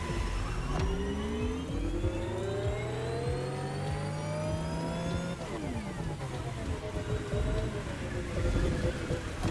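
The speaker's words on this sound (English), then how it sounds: "It does drive very nicely. It's a very quick car." Electric car accelerating in The Crew Motorfest racing game, a rising whine that climbs steadily in pitch, drops, then builds again, loud and continuous with road noise beneath.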